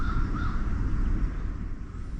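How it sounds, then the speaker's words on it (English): Crows cawing at around 5:30 in the early morning, mixed with roosters and a passing train; faint, scattered caws over a steady, rumbling low background. "between the train you can hear the roosters and the crows"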